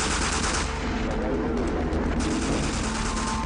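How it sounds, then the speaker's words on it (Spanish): Dense, continuous gunfire crackles steadily under a roaring background, like a prolonged exchange of shots heard from inside a building during an armed standoff. "I hear gunfire."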